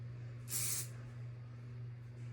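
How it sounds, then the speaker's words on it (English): A single short burst of hairspray hisses from an aerosol can, close by, over a low steady hum. "you can kind of spread it apart when you spray it"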